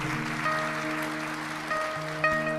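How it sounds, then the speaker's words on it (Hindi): An audience claps to welcome two guests at a devotional gathering, with steady, moderately loud applause running the whole time beneath sustained tonal music. "तो ताली बजा के स्वागत सम्मान हमारी दोनों मैयाओं के लिए"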